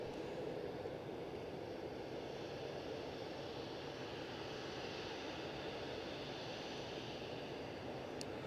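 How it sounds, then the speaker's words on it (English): An easyJet Airbus A319-100 jet lined up for takeoff at Edinburgh Airport sits idling with a faint, steady engine hum and broad low rumble, distant and unchanging, with no voices. "So easyJet off back to London Gatwick, an A319-100, lined up and in the blocks."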